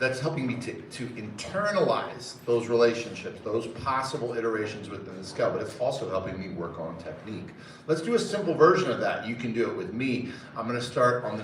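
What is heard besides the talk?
None of the usual background noises is heard.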